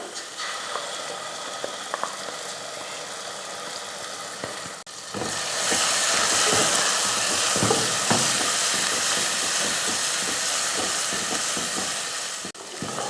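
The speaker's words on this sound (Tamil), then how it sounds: "எண்ணெயில் இது போல் மசாலா ஒரு 2 நிமிஷத்துக்கு நல்லா வதக்கி விட்டுட்டு" Ground masala paste sizzling in hot oil in a pan for a Tamil fish curry lunch, frying steadily with a loud, continuous hiss that swells after a few seconds, broken by scraping stirs.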